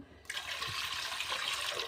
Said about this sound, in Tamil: இப்போ வந்து குக்கரில் வந்து தண்ணி ஊற்றி வச்சுக்கிறோம்